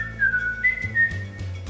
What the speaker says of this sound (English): and I can whistle like.